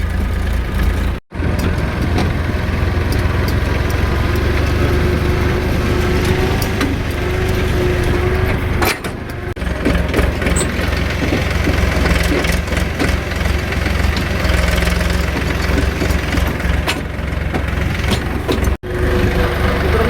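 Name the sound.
tractor engine straining pulling four-wheel trailer uphill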